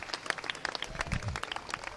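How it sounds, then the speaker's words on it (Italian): Audience clapping after a music piece at an outdoor blood-donor association festival, a brief burst of fairly soft, scattered applause lasting about two seconds, with no talking. "Intanto sentiamo l'applauso dopo questo primo pezzo musicale."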